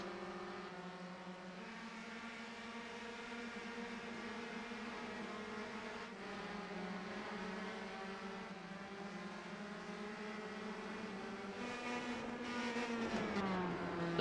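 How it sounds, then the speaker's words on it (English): Several race cars circle the Lime Rock Park circuit, engines droning steadily with overlapping tones that rise and shift as the cars pass, growing a little louder toward the end; no one talks. "Those 17 cars once again racing."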